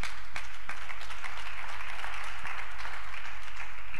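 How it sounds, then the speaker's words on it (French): A church audience claps in a dense, sustained burst of applause filling the room, steady and loud from start to finish with no speech on top. "On acclame pour vous-même, vous êtes merveilleux."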